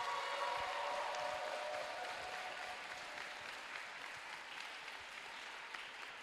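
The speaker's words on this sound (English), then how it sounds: "Let's have a round of applause for all the teams competing here today" Steady applause fills a robotics competition venue for the competing teams, a broad even patter of many hands clapping at moderate distance, holding without a break for several seconds.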